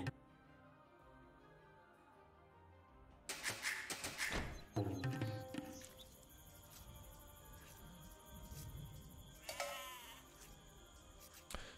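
Sheep bleat in the Age of Empires strategy game: two clear calls rise midway and near the end among game effects and thuds, with no talking.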